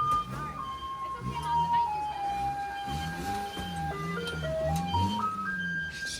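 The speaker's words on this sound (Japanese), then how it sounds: "もう人通りの道にガンガン清掃の車が入ってきて" A street cleaning truck drives along a narrow Taiwan street, playing a melodic tune whose notes step down and then climb back up, with engine rumble underneath and people talking nearby.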